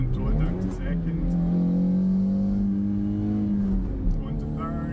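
A 1989 Toyota MR2 AW11 with the 4A-GE engine revs while driving, its tone climbing steadily through third gear in a smooth sustained rise before dropping off, loud and close, with a voice talking over it.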